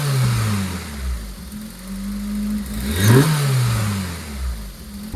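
An Opel Calibra's C20NE four-cylinder engine runs close by, idling then revving in repeated swells up and down, with one sharper rise and fall midway over a rough mechanical hum.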